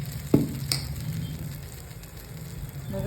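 Mixed lentil appe batter sizzling steadily in a covered appe pan, a soft continuous frying hiss with a brief clink near the start.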